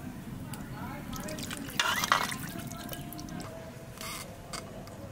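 Water poured into a pan of spiced magur catfish with mustard oil for a Bengali curry, splashing and sloshing as people talk over it.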